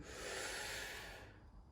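A single deep breath drawn in through the nose during a home golf fitness workout, a close, steady hissing inhale lasting over a second before trailing off.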